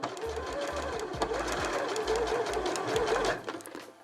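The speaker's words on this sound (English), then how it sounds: "So I'm going to sew down to that seam line and stop" A sewing machine stitching a seam on a dress bodice, its close, rapid motor chatter running in short bursts with brief pauses and then stopping near the end.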